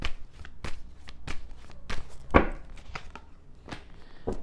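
Tarot cards are shuffled and tapped in a string of crisp, close riffling snaps and soft slaps, with one louder clack near the middle, in a quiet room without talk.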